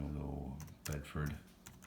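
Keys clatter on a computer keyboard in a few quick bursts of clicks while someone talks over them, close and fairly quiet.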